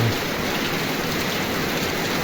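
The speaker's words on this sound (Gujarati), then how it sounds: "ભૂકો વરસાદ જોઈ લે પાણી પાણી ઘડીક વારમાં કરી દીધું" Heavy monsoon rain pouring down on an open courtyard, a dense, steady roar of water with no breaks, loud and close.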